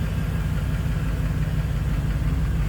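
A 1963 Cadillac Coupe DeVille street rod idling smoothly, a steady, even low rumble close by, running alone without voices.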